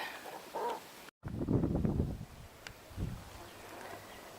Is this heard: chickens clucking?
yes